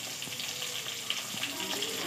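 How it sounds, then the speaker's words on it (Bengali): Fish frying in oil in a home kitchen, a steady close hiss and sizzle with small pops, no talk. "এখানে চলছে মাছ ভাজা"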